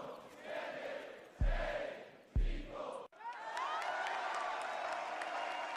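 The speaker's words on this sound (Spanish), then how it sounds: "quiero un aplauso." A freestyle rap battle crowd in Sevilla claps and cheers in loud bursts, with shouting swelling up and a sustained roar of applause after a brief cut.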